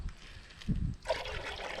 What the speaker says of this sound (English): now it looks like some of it is dripping down the side of the skid loader